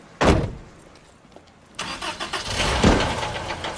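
A car engine cranks and starts, a short thump first, then a rumbling turnover that settles into a rough, steady idle nearby.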